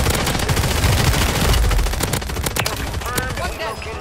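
Sustained automatic gunfire in Call of Duty: Warzone, a rapid, loud, continuous stream of shots emptying a magazine, followed by scattered impact and reload clatter near the end.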